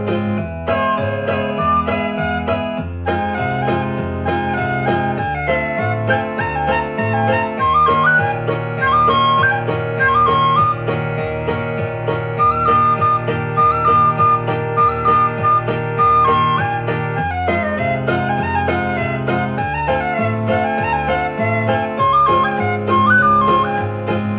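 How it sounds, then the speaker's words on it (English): A tin whistle in C plays a high, sustained melody over a dense, steady, dissonant musical backing with a repeating rhythmic pulse, loud and continuous. "I was thinking of also playing a C whistle over this"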